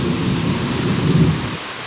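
Heavy rain pours in a loud, dense roar with a deep thunder rumble underneath, steady and close throughout.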